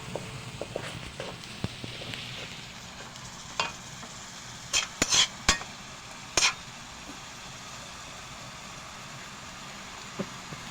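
A spoon stirs salt into a puto pao mixture in a bowl, giving soft scraping and swishing strokes with a few sharper clinks against the bowl's side, close and fairly quiet.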